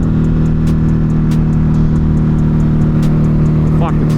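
An Acura Integra passes on the road, heard from a moving Ducati Hypermotard 950 RVE over loud, constant engine and wind roar, with the car's sound blending into the steady drone.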